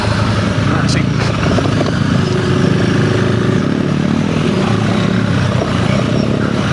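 A loud Honda CRF300L dirt bike engine roars steadily up close while riding off-road, with rattling and wind noise and a person talking over it.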